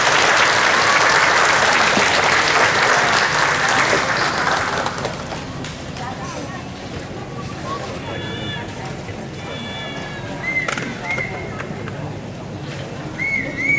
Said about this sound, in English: One more round of applause for the Lieutenant Governor.